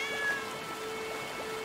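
A cat meows in the video game Blacktail, a short, clear, close mew rising and falling over a faint steady hum, with no talking.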